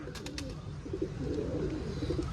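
Soft, low cooing from a nearby pigeon repeats a few times over faint background hiss.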